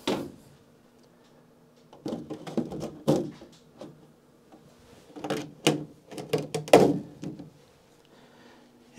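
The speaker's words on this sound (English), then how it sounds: "Put the dome on." A series of plastic clicks, thunks and rustles, irregular and close by, as a lightweight plastic dome is handled and pressed into place on a seed tray.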